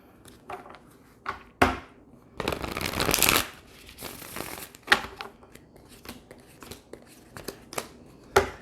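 A deck of tarot cards is shuffled by hand in repeated riffles and bridges, sharp close flutters and slaps separated by brief pauses, with no speech over them.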